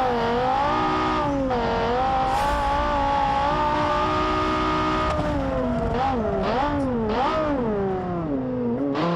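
A car engine in BeamNG.drive, one of the Automation-built cars, drones steadily at high revs, then rises and falls in several sharp revving sweeps as it works through the gears, loud and continuous with no talk.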